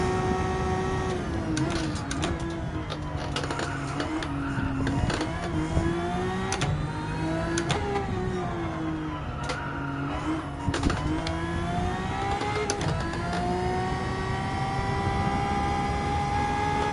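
A car engine in Gran Turismo 7 revs hard and steadily, its whining pitch climbing and dipping through gear changes in a continuous, loud stretch with no talking.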